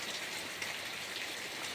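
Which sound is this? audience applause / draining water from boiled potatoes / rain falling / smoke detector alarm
rain falling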